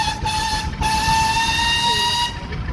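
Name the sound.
steam engine whistle blowing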